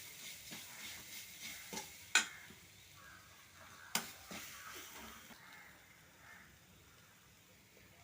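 Sardine thoran with coconut paste and onion is stirred in a pan; a spoon scrapes and taps in a few sharp clicks over a soft sizzle that grows quieter toward the end.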